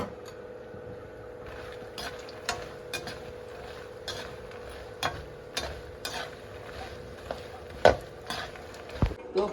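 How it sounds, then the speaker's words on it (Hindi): Fox nuts (makhana) tumbling into a pan and being stirred as they roast, with soft repeated clicks and scrapes of a spoon against the metal over a faint steady hum. "अब मैं इसमें डालूंगी मखाने।"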